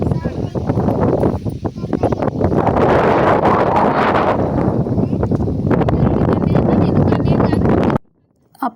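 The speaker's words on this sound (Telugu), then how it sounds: "గాలి చూసిర్రా ఎంత ఇట్లా వేగంగా వీస్తుందో" Strong wind gusts in rainy, drizzly weather, a loud continuous rushing roar buffeting the microphone for several seconds before cutting off abruptly.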